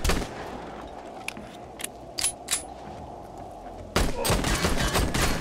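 Gunfire in the zombie survival game 7 Days to Die, Alpha 20 with the Wasteland mod: a few sharp single shots, then a dense close burst of rapid fire at the end.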